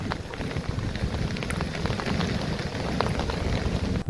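Steady, heavy monsoon rain in Ratnagiri pours continuously, a dense hiss with scattered sharper drips and patters close by, no voices.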